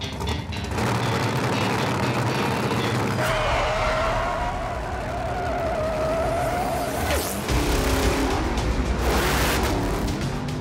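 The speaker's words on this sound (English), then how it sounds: "San Antonio Raceway, Texas. Setting for the largest drag race series in the US." Drag race cars at San Antonio Raceway, Texas, roar loudly with a sustained engine drone and a rising whine, then a sharp burst and tire-squealing rush as another car launches, close and continuous with no talk.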